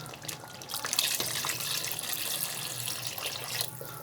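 Water poured into a pot of frying beef trotters for paya, a steady close splashing pour running the whole time with a faint hum underneath.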